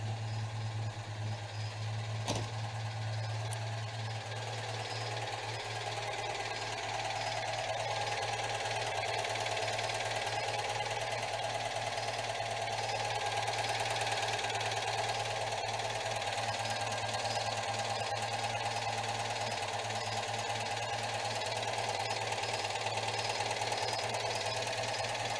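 A Citroën 2CV engine idles steadily with a continuous, even mechanical drone and a faint rapid ticking, holding a constant level throughout with no voices.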